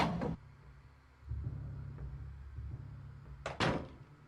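A door in Silent Hill 2 opens with a sharp creak and thunk, then low rumbling ambience, then another loud door clunk near the end; no voices.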